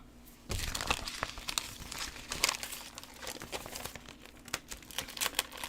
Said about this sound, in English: I have to cut that little tab off